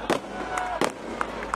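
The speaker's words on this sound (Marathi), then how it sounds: "अरे बाबा फटाके 23 तारखेसाठी ठेवा," Firecrackers bursting at an outdoor election rally in Kalwa-Mumbra, several sharp cracks and pops spaced unevenly over a low crowd murmur and amplified background hum.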